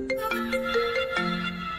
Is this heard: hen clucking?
no